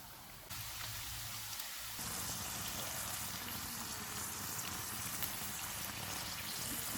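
Potato sticks hit medium-hot oil with a steady, dense sizzle and bubbling crackle that swells after the first couple of seconds and holds loud and continuous to the end, with no voices.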